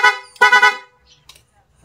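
A Sniper 155 dual car horn honks twice in quick, loud, brassy beeps, followed by quieter faint noises and near silence.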